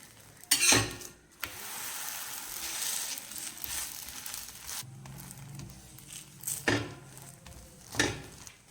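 Parotta flatbread cooking on a hot pan, with a broad sizzling hiss under scattered clinks of a utensil against the pan and a few sharper scraping knocks, fairly quiet and close with no talk.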